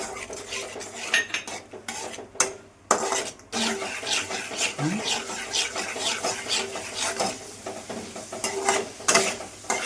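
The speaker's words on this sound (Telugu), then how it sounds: "ఫ్రై అవ్వాలి ఈ ఫ్రై అవుతుంటేనే ఇవి కూడా కిస్మిస్లు కూడా వేసేసుకుందాం" Raisins and cashews fry in a pan for poha laddu, with a metal utensil scraping and clattering against the pan in irregular strokes over a soft sizzle, close by and without voices.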